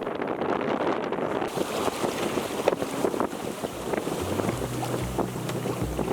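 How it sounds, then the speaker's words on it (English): A sailboat under its front sail in strong wind off Tjörn Island, Sweden, with loud, constant wind buffeting and rushing water around the hull, and a low engine-like hum rising near the end. "Then we hoisted the front sail. And we were sailing beautifully."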